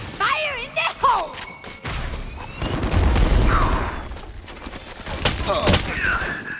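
A grenade going off in a first-person shooter video game: a heavy, rumbling blast swells midway, surrounded by thuds and brief electronic effects, loud and close.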